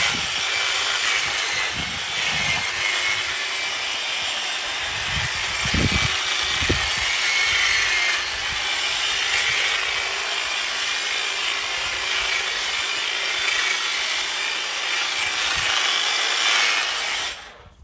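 An electric hedge trimmer cuts along the lower edge of a diosma hedge, its steady buzzing motor running continuously near the listener with faint rustling and snipping of twigs underneath.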